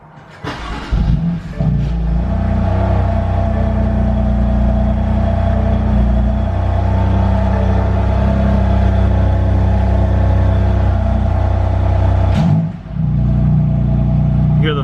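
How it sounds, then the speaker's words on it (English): A BMW M3 engine fires up on a cold start, catching with a sharp burst and settling into a loud, steady high idle rumble that holds close by, with a brief dip and blip near the end. "First, M3 cold start."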